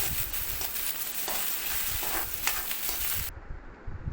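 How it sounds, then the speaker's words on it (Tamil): Onion, curry leaves and coriander sautéing in a pan for drumstick tamarind kuzhambu, a steady close sizzle with scraping stirs, cutting off near the end. "அதையும் அதில் போட்டு நல்லா வதக்கி விட்டுக்கிறேன் கூடவே கருவேப்பிலை கொத்தமல்லி அதையும் அதில் ஆட் பண்ணி நல்லா வதக்கி விட்டுக்கிறேன்"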